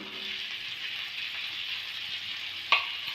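Butter, garlic and green chilies frying in a pan for vegetable Maggi noodles, a steady close sizzle throughout with one brief clink near the end.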